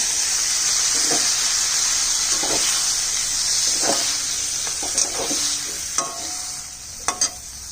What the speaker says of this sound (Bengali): মশলা ধোয়া বাটির জলটা দিচ্ছি